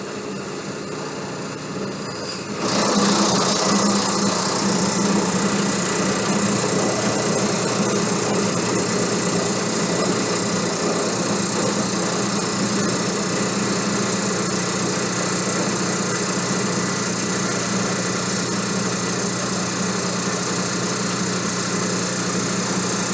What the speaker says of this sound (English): I'm going to put some load on this alternator now.